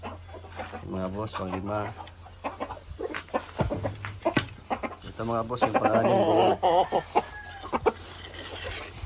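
Large chickens clucking and squawking as they are fed conditioning food, close and fairly loud, mixed with someone talking over them throughout.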